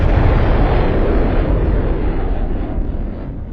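A missile explodes in the Minecraft ICBM mod video game, a loud sustained roaring blast that slowly fades over a few seconds, with no talk.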